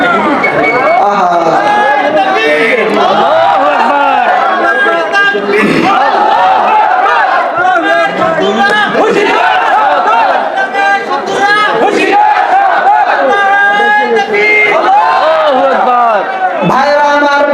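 A large gathering at an Islamic religious talk in Lalmonirhat shouts back in answer to a takbir call, a dense, loud, sustained roar of many voices chanting together without a break.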